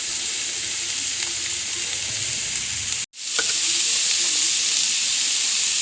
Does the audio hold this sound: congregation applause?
no